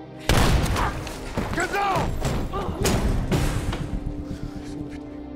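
Gunfire in an action film: a loud burst of shots and heavy thuds opening a dense, chaotic battle mix of impacts and whooshes that gradually fades.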